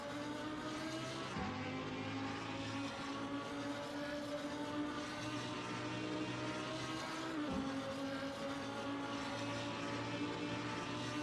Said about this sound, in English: Engines revving, tension rising